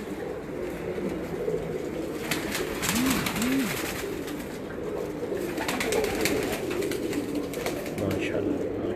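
Pigeons coo in a loft, with a couple of soft, low rolling coos close by over a steady background hum and light rustling.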